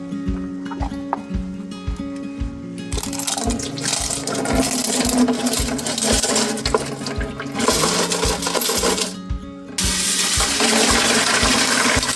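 Tumbled agate and jasper rocks are rinsed out of a rock tumbler drum, with a steady rush of running water over repeated clacking and rattling of stones, close and fairly loud throughout, briefly pausing before resuming.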